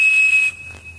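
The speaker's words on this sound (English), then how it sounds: "Armed with a Captain Crunch whistle, phone phreaks could seize control of telephone lines anytime" A Captain Crunch cereal toy whistle blowing a steady 2600 Hz tone into a telephone line, a piercing pure note held for half a second, then a fainter tone with a short chink-like click.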